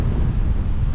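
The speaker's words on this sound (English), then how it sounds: "here at the top it is a bit windy" Strong wind buffeting the microphone on a hilltop on the South Downs Way, a loud, continuous low rumble with no other sounds.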